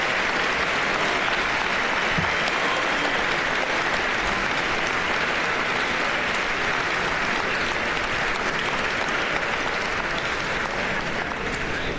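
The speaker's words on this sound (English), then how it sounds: "give them a big applause for getting you through all of this" Sustained, dense applause from a large crowd at a Notre Dame Law School hooding and degree ceremony, graduates clapping for their family and friends; steady and even for the whole span, with no talk over it.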